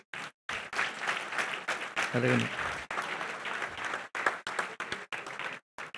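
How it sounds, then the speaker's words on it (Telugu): An audience at a church prize-giving event in Doha applauds the winners with a sustained burst of clapping that swells and fades in waves, while a speaker's voice carries through the applause at moments. "గట్టిగా చప్పట్లు కొడదాం."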